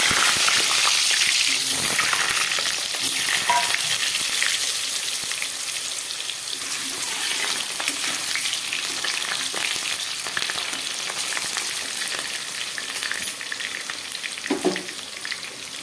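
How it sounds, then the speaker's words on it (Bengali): Potatoes fry in hot oil with a loud, continuous bright sizzle, broken by a few louder crackles and spatters and one short scrape of stirring near the end. "তেল গরম হয়ে গেছে, আমি আলুগুলোকে ভেজে নেব।"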